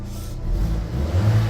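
A Vauxhall Mokka engine revs hard, its exhaust racing in a steady, loud low-pitched drone that swells slightly toward the end, with no talk over it.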